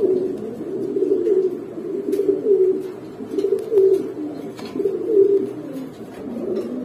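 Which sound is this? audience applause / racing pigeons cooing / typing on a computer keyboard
racing pigeons cooing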